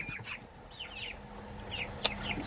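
Laying hens cluck in short, scattered calls with a sharp knock partway through, set against a low steady background hum.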